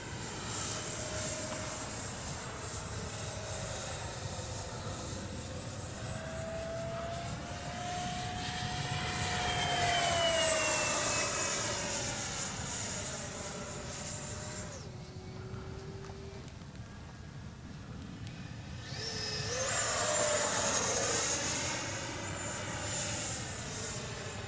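Freewing 70mm BAe Red Hawk RC jet flying overhead, a steady ducted-fan whine that rises and falls twice as the model makes close passes, loud throughout and continuous.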